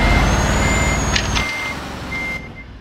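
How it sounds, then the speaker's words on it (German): Scania truck reversing in Euro Truck Simulator 2, its backup alarm giving steady high beeps over a low engine rumble, which quiets partway through as the beeping continues. "Erstmal rückwärts fahren."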